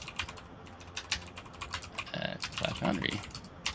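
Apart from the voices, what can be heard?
typing on a computer keyboard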